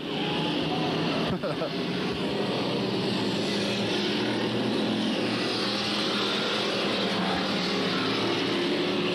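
Street stock race cars roar off the start at a 1993 oval race, a dense wall of engine noise from several cars that stays loud throughout, with a commentator talking over it.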